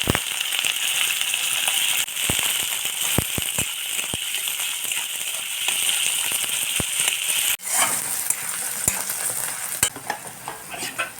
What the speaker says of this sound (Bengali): তো পেঁয়াজগুলো দিয়ে দেবো